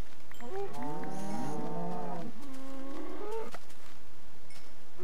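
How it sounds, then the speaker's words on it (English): Several cows moo loudly in Minecraft, long drawn-out bellows overlapping for about three seconds, then fading, with no talk over them. "These cows are really loud and obnoxious and annoying."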